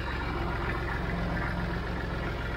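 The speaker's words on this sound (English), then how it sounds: "Once the Perkins diesel started up, it really sounds great." A Perkins 3-cylinder 152 cubic inch diesel tractor engine idling steadily, a close, dense low rumble with an even mechanical throb and no one speaking.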